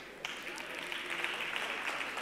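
Conference audience at a summit in Istanbul bursting into applause to welcome a speaker, a steady wash of clapping that starts abruptly and continues evenly at moderate distance.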